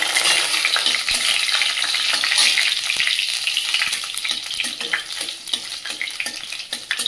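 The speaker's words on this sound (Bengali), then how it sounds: "কড়াই দিয়ে দেবো তেল, দিয়ে দেবো শুকনো লঙ্কা।" Halved dried red chillies fry in hot oil in a wok, giving a steady loud sizzle and crackle close by, with faint stirring clinks, no speech.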